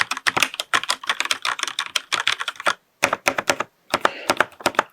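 Mechanical switches on a gaming keyboard clack in quick bursts of typing, crisp close taps in rapid runs with two brief pauses, no voices.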